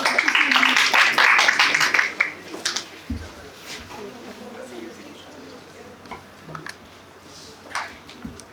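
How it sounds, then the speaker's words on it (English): Applause from an ideathon audience: a couple of seconds of lively clapping, then a few sparse, isolated claps and taps trailing off as a voice begins to talk quietly. "A huge round of applause for her,"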